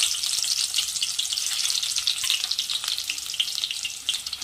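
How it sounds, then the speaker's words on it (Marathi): Onion fries in hot oil in a pan, a loud, continuous close-up sizzle with crackling spatter and no voices. "आता यामध्ये आपण कांदा ऍड करू"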